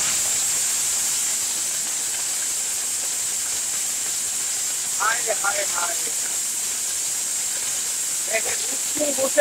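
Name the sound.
electric blender running, grinding food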